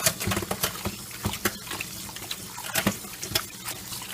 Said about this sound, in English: You can hear the grit coming out the bottom of them in the sink.